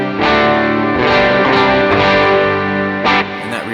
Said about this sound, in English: now what I have is the mail order twin inside my worship template so I can just hear what that sounds like